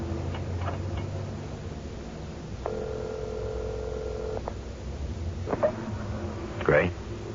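A telephone is dialed inside a phone booth. Short clicks and tone bursts give way to a sustained dial tone lasting nearly two seconds, followed by a few more tones and knocks. Faint voices sit in the background.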